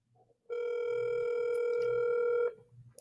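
Ringback tone on an outgoing telephone call, a single steady electronic ring lasting about two seconds, close and clear, with faint background murmurs before and after.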